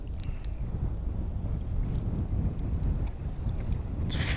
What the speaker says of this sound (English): that wind's getting up.